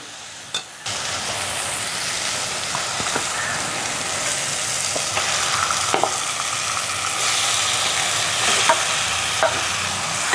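Onions sautéing in a pan for Jaffna-style chicken porridge, a steady close sizzle and frying hiss with occasional stirring scrapes, no voices.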